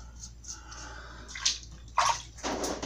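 Water splashed by hand onto the face while shaving at a sink, a few short close splashes and drips followed by a brief rush of running water.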